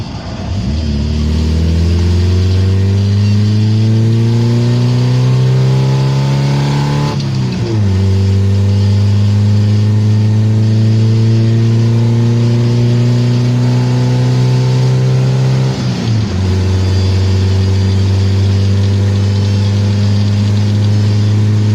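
A 1987 Mazda B2000 pickup's engine, fitted with a Weber 32/36 DGV carburetor, revs up loudly and close three times, each smooth rise in pitch falling back before climbing again.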